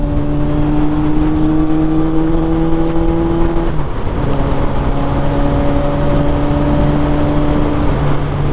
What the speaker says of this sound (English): This wind is nasty.